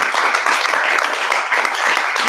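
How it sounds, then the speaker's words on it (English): An audience at a panel discussion event applauds a panelist, giving a brief burst of steady, even clapping from many hands that holds at a constant level. "Let's give him a round of applause."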